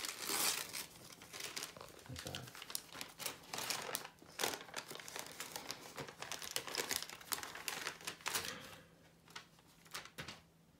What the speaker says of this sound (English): Some Christmas wrapping paper.